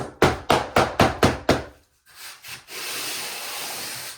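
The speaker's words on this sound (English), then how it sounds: "Then you can tamp it down with your trowel." A trowel tamps drypack mortar for a shower pan, making six sharp, evenly spaced taps followed by a couple of softer knocks and then a steady scraping rub.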